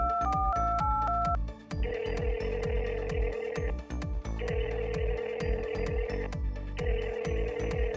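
Phone call ringing unanswered: short dial beeps, then repeated long ringback tones in three evenly spaced bursts over a busy rhythmic background beat.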